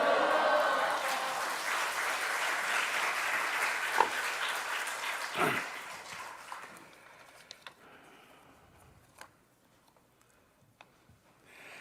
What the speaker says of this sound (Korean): 우리 할렐루야와 우리 박수로서 환영하며 맞이하시겠습니다